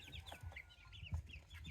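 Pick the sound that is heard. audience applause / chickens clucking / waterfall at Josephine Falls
chickens clucking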